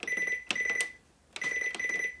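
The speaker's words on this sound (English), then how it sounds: "If I press any button other than the power button, it just beeps." A Canon MX860 printer beeping in two short bursts of rapid high-pitched tones, separated by a brief pause, close and fairly quiet.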